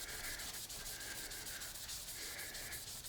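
A snakeskin-finished pen blank is sanded by hand with steady back-and-forth rubbing strokes, a close, even scratchy hiss that pulses rhythmically several times over a few seconds.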